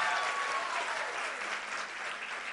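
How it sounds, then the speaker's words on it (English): An audience applauds a playback singer and composer, a broad, even sheet of many hands clapping that holds loud and steady, easing slightly toward the end. "A huge round of applause for him."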